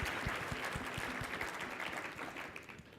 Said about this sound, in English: And so if you give them a round of applause,